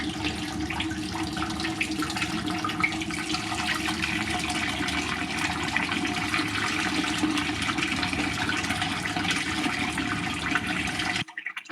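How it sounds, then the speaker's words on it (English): Water pours steadily down the concrete chute of a model dam spillway, making a continuous close rushing, splashing wash that holds even for about eleven seconds, then cuts off abruptly near the end. "When everything is working right, the water just runs over the top."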